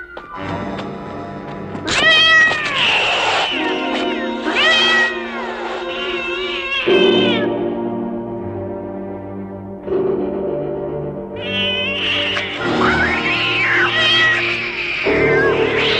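Several cats screaming and meowing in an overlapping, rising and falling chorus, loud and close, with harsh caterwauling wails throughout and no talking.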